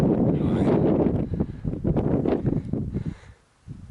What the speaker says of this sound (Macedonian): силен ветер дува